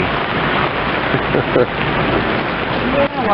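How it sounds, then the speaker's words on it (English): Steady rain in Tarpon Springs, Florida hisses and patters on surfaces throughout, a dense constant wash with occasional louder drops and faint background sounds. "But it is raining."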